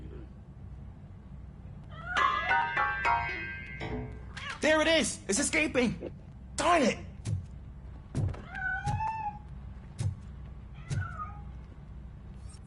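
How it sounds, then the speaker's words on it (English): Several cat meows ring out in a RoboCop video game, sharp rising-and-falling calls spaced over a low steady hum, with a thunk partway through and a voice speaking between them. "That cat must be hiding inside."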